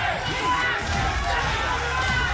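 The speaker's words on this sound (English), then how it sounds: "Oh my God, the crowd of the USA chant, started by Spiro Jin." A large esports crowd at a Tekken World Tour Finals event roars and chants together in a steady, dense wash of voices, loud and continuous throughout.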